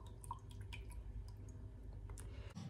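Water dripping and splashing softly while a hoya houseplant is watered indoors, a steady close patter of drops and trickles with no talk.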